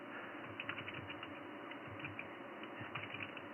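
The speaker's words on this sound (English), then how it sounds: "you can hear my loud keyboard there in the background" Rapid clicking of a loud computer keyboard being typed on, heard faintly and steadily in the background of a 27.365 MHz LSB radio net, with no talking.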